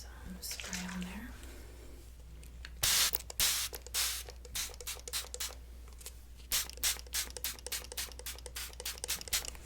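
Hairspray sprayed onto hair during a styling session, with one strong hiss followed by a string of short, close aerosol bursts and soft handling noises, all quiet and intimate.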